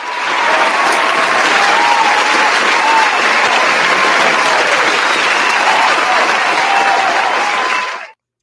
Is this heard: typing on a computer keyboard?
no